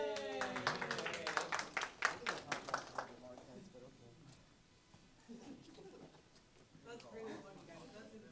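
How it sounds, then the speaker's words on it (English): A small audience at a bootcamp event claps in a brief burst of distinct hand claps lasting about three seconds, then fades into quiet chatter and murmuring voices. "Can we get a round of applause for them?"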